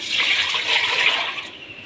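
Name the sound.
water poured into a pot for heating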